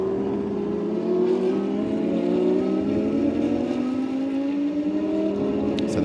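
Lamborghini Super Trofeo race cars at Jerez accelerate out of a turn, a rising engine howl climbing steadily in pitch, loud and sustained with a distant crowd-like wash underneath.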